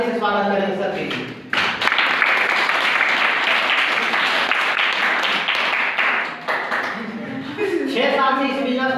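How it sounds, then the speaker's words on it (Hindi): An audience at a Hindi-language gathering gives a loud burst of clapping to welcome a speaker, lasting most of the stretch after a brief spoken lead-in, with talk resuming near the end. "एक बार जोरदार ताली से स्वागत करें सर के"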